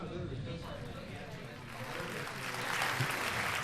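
A recorded applause sound effect plays back through an RME audio interface at a podcast event, a soft crowd-clapping wash that swells toward the end beneath nearby conversation.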